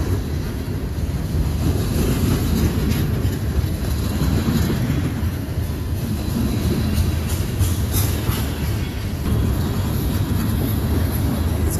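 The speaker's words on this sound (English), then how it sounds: "either this is a really, really long train that had a lot of cars" A very long freight train with many cars rolls past close by, a loud, steady rumble and clatter lasting throughout, with wind buffeting the microphone.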